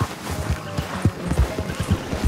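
Horse hooves clip-clop in Red Dead Redemption 2 near a hunting wagon, a steady run of mid-loud thuds, with a faint whinny possible and no talking.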